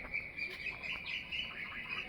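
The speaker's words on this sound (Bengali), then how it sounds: "পাখিগুলো কত সুন্দর ডাকছে দেখো" Birds call and chirp repeatedly at a moderate distance near a pond in the morning, over a quiet background, with several short squawks mixed in.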